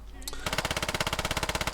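A PPSh submachine gun in the video game Squad firing a sustained full-auto burst, a rapid even stream of sharp cracks after a brief quieter lead-in, loud and close.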